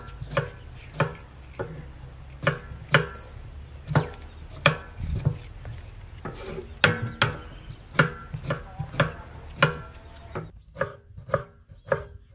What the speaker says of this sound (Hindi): और बाकी जो चीज़ें कटिंग वाली हैं वो भी काट लेंगे, टमाटर और सब्ज़ मिर्च वगैरह।